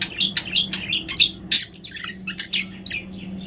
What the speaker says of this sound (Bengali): এই যে পাখি চলে আসছে দেখো।